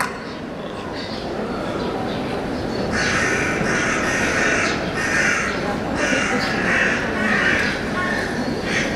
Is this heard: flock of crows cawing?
yes